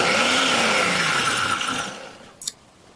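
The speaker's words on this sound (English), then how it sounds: "Blend this until it's all smooth and comes together." A blender whirs through a silken tofu chocolate mousse, a loud steady motor roar close by that slowly winds down and fades, followed by a brief clack near the end.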